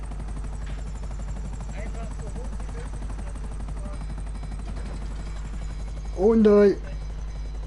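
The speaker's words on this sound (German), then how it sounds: "Ja, der Heli macht's nicht mehr lang." A damaged helicopter in GTA 5 Online drones and whirs steadily at close range with a fast rotor flutter, while a voice briefly breaks in near the end.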